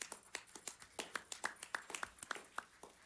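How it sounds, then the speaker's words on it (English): Sparse clapping from a few people at a police commission meeting, a dozen or so separate claps in an uneven rhythm, fairly close and moderately loud, with no talk over them. "Please stand up and let me give you a round of applause"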